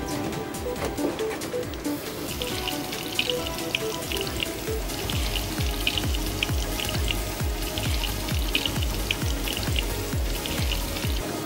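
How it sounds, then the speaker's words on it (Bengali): Instant noodles fry in a pan until they form a crisp nest, giving a continuous close crackling sizzle dotted with rapid pops and spits that hold steady throughout. "আমার পাশারি দিয়ে আমি এখন ভাজবো"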